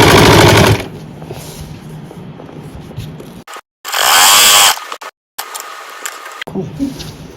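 A sewing machine stitching a suit runs in two loud, rapid bursts close up, separated by a quieter stretch of handling noise.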